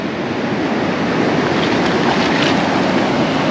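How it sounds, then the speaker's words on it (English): Ocean surf washing steadily onto a beach during shore fishing for kob, a loud, continuous broadband roar of breaking waves with some wind buffeting the microphone, no voices. "Just waiting for the waves and we're going to put him back."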